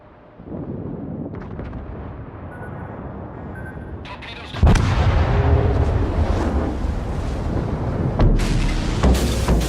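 The battleship Mutsu's main guns fire in World of Warships, a heavy boom erupting midway and rolling on loudly, with another deep blast near the end over a low ambient hum.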